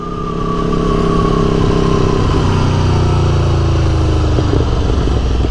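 A 2018 Aprilia Tuono motorcycle with an aftermarket exhaust pipe revs loudly and steadily, its engine note rising and holding through a sustained, throaty roar close to the listener, with no talk over it.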